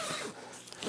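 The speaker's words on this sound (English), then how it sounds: "the whole front panel zips out on this" A zipper runs along the front panel of a Prologic Frame-X one-man fishing bivvy as it is unzipped, one continuous close rasping pull with no talking.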